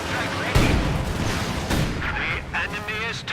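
Artillery bombardment strikes the centre of a Company of Heroes 2 battlefield, a heavy booming impact near the start followed by continuous rumbling gunfire and explosions, with another burst midway and a voice talking over the battle.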